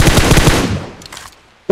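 Rapid automatic gunfire in an older video game, a dense loud burst of shots that fades out, followed by a few faint distant pops and one sharp final shot.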